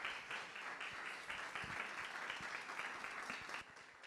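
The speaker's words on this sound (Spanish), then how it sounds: "Un aplauso por favor a nuestros panelistas." An audience at an economics festival panel applauds the panelists, a dense, steady wash of many hands clapping that holds for several seconds and eases slightly at the end, with no talking.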